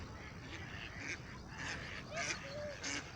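Domestic ducks quacking and honking outdoors on water, several short calls scattered across the clip over a steady wash of background noise.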